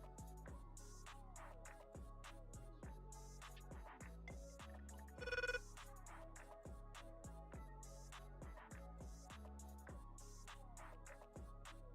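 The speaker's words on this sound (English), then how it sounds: "Phone rings, of course." A telephone ringtone rings steadily in a workshop, a loud repeating electronic melody that carries on without pause and with no talking.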